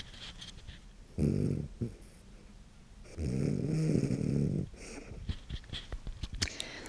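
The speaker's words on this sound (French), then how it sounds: "je vous mets les ronflements de mon chien" A dog snores in two long, rumbling breaths with quiet pauses between, followed by faint shuffling and small clicks close by.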